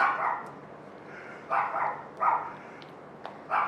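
A dog barks in short, repeated bursts at moderate distance, with brief pauses between barks.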